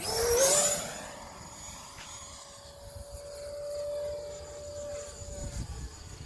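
A Horizon Hobby Viper Jet RC model jet making a slow pass, its turbine whine rising loud at first, then settling into a steady distant drone with a sustained tone as it passes by outdoors.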